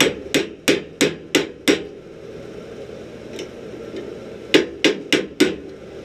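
A hammer strikes a forged steel chain link on an anvil. A quick run of six sharp, ringing blows comes first, then a pause, then another burst of four close, evenly spaced strikes.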